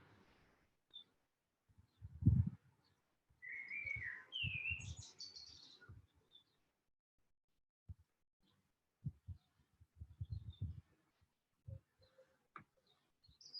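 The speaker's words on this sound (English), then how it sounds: "Nice to hear them singing in the background though." Birds sing outdoors in the morning, a couple of brief chirping phrases and scattered faint calls carrying from a short distance, mixed with soft thumps and movement sounds nearby and no talking.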